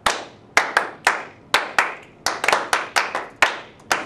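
Students in a music class clap a rhythm pattern, sharp hand claps in irregular groupings, some in quick pairs, close and clear with no talking.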